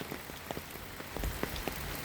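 Steady heavy rain falls during a storm, a dense close hiss of drops spattering on a surface, with scattered louder individual hits and no voices.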